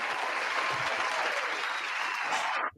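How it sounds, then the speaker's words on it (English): A big, loud round of applause from a crowd of clapping hands runs steadily for nearly three seconds and stops abruptly at the end, with no voices over it. "big round of applause for Matt Gay."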